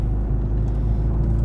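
Steady low engine rumble and exhaust drone from a JET Motors remastered classic Mini on the move, heard from inside the cabin, smooth and continuous with no talking.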